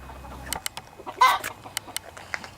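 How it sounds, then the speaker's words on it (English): Chickens cluck and squawk briefly nearby, with a louder cackle in the middle and scattered short clucks around it. "Chickens, what are you guys doing?"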